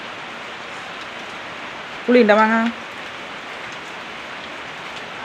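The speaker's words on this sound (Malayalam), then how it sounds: "നല്ല മഴ, നമുക്ക് നല്ല മഴ." Heavy monsoon rain falls steadily as a dense, even hiss on the surfaces outside, continuing throughout while someone briefly speaks over it.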